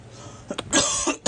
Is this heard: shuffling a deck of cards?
no